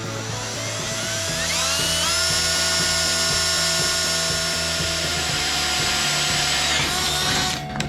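A power drill runs up to a high steady whine while boring a hole in metal for a lawn tractor brush guard, the bit chattering and grinding through the cut for several seconds before spinning down; close, loud and continuous.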